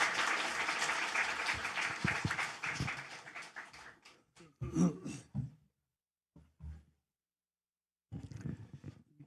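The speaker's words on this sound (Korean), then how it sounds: "우리 큰 환영의 박수로 맞이하도록 하겠습니다." A church congregation at Sunday worship applauds in welcome of the pastor, with clapping that fades out over several seconds, followed by a few faint, scattered rustles and near silence.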